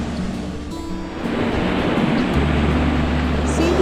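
Waves wash onto a beach at Bakkhali, West Bengal, in a steady, rushing surf that swells slightly louder, with faint low hum underneath.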